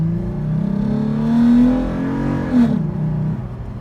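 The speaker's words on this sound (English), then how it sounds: "there's a little bit of a rumble, and it is a lot louder than the stock airbox" Car engine fitted with a TRD air filter pulled to full throttle, a close, steady rumble that swells and climbs briefly before easing off, with no voices.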